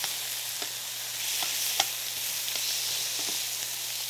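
Vegetables sizzle and fry in a pan on a Wolf induction cooktop, a steady bright hiss with small crackles and pops scattered throughout. No voices are heard.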